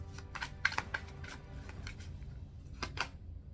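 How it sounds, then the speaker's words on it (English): A deck of tarot-style cards being shuffled by hand, giving a few soft riffling bursts and crisp flutters spread across a few seconds, quiet and close with no talking. "I'm gonna shuffle."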